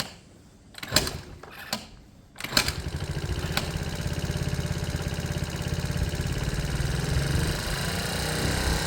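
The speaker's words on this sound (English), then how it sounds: "I'll probably use the kick to hear its first start up" A Honda CD200 motorcycle kick-started after repair work: a few sharp kick thumps and sputters, then the engine catches and settles into a loud, steady, close idle with a rhythmic low chug.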